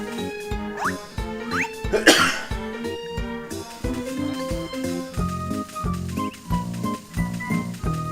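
A burst of harsh coughing rises over a busy background of clattering, tonal sounds from the video game Harvest Moon: A Wonderful Life, with a loud broadband cough peak in the middle.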